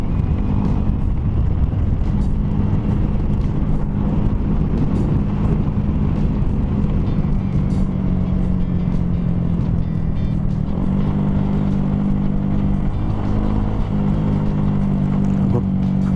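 A motorcycle descends a steep, sharply banked road on a Talakag ride, its engine a steady low drone throughout, close and loud with wind rush, no one talking.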